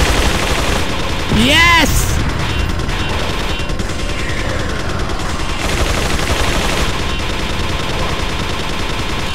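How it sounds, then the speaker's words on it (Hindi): Machine gun fire in Resident Evil 4 Separate Ways, a steady loud barrage of rapid shots running throughout, with a short whooping tone early on and someone speaking over the gunfire. "मेरे हाथ तो मशीन गन है दोस्तों, एक एक को चुन चुन के मारूंगा मैं"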